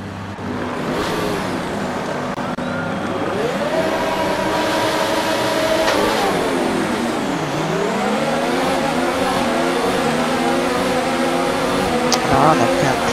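F1 cars launching at the race start in the F1 2019 video game, Spain: loud, dense engine roar with pitch climbing through gears, a dip at a shift, then rising again, continuous and close.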